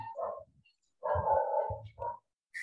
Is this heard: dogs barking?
yes